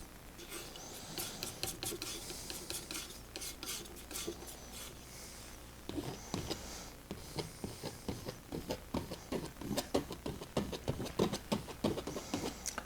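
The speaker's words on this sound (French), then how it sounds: "Je refais du mélange." A palette knife scraping and mixing thick oil paint on a palette, a quiet series of short rasping strokes in an uneven rhythm that quickens toward the end.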